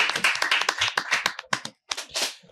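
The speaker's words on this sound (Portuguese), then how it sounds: "Uma salva de palmas." Several people clap in quick, uneven bursts, a short round of close applause that thins out and ends with a few scattered claps.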